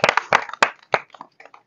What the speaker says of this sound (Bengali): ওকে, হাততালি হবে, হাততালি